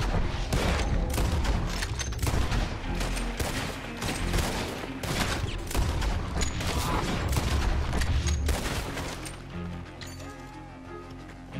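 A prolonged barrage of gunshots fills a Red Dead Redemption 2 shootout with a bounty posse, dense overlapping reports and booms firing loudly and almost continuously before easing near the end.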